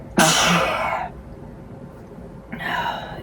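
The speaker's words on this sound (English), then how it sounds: "I've got a sneeze coming" A loud, sharp sneeze bursts out, followed after a short pause by a second, softer sneeze-like exhale, outdoors in fine weather.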